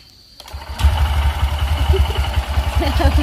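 A motorbike engine starts with a sudden catch and settles into a low, steady idle that putters rhythmically close by, with a voice talking over it.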